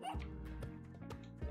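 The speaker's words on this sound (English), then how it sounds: "And we have a dog." A dog in the Spelunky 2 video game gives a few quick yips and small barks in a short burst, mixed over game sounds.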